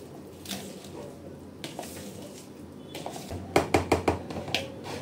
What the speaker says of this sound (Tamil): இப்போ அதை அப்படியே மிக்ஸ் பண்ணிக்கலாம்.